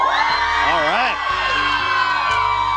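A crowd of schoolchildren cheers and whoops loudly at a welcome event, a rising and falling shout of many voices that swells, dips briefly, then carries on strong.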